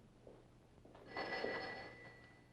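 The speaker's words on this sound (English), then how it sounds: "I believe my phone is ringing." A telephone rings in a 1971 military etiquette setting. A single bright electronic trill swells and fades over about a second, faint and slightly distant above a low steady hum, with no talking.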